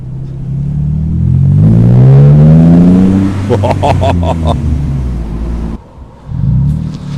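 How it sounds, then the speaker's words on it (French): A 2013 Morgan Roadster Sport's exhaust roars loudly as the car re-accelerates, the engine note climbing in pitch, followed by crackles and a brief drop before the throttle comes back on. "la ligne d'échappement, quand on réaccélère après"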